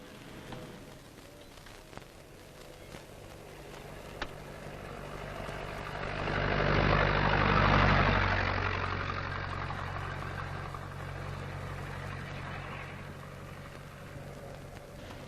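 A truck engine idles in an old radio drama, a low steady rumble that swells louder midway and then settles into a softer, continuous drone, with no voices.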